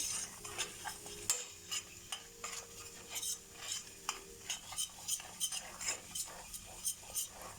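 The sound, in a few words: flour and butter white sauce bubbling and being stirred in pot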